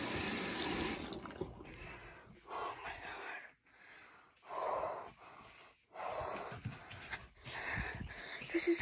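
Water running from a tap in the horror video game Doll Maker, a hissing stream that starts and stops in bursts, mixed with gasps and heavy breathing from a nearby person.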